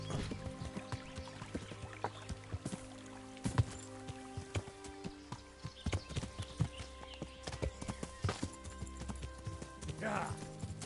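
Horse hooves clop irregularly in Kingdom Come: Deliverance, faint scattered thuds and knocks over a quiet outdoor ambience, with a person speaking briefly in between.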